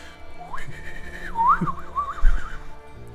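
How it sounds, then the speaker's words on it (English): A short, playful whistled melody with rising pitch and wavering, swooping slides, fairly close and moderately loud, with no talking. "I'm gonna whistle in a very whimsical way."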